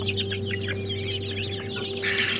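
Araucana chickens cluck and chirp among a flock of rare farm birds that includes turkeys, steady and close, with a constant low hum underneath and no talking.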